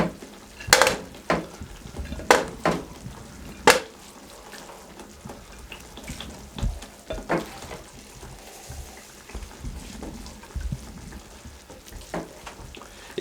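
Cumin rice scooped from a pot onto a plate in a dhaba-style kitchen, several sharp scraping clinks of a spoon against metal amid soft rustling, close and fairly quiet.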